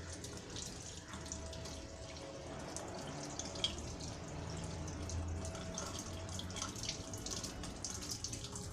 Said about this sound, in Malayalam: റിൻസ് ചെയ്ത് നന്നായി കഴുകാം.